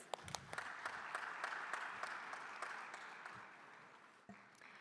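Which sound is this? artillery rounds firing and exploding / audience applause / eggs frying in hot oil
audience applause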